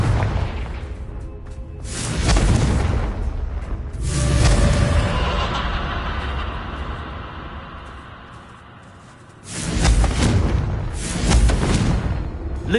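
The Confringo blasting spell in Hogwarts Legacy sets off loud, deep booming explosions in several surges, each rumbling out before the next blast.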